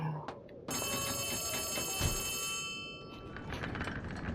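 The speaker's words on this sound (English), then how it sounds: "Phone call. Phone call." Old-style telephone bell in the Poppy Playtime Chapter 4 video game, ringing in one long sustained burst before fading, with a voice speaking over it.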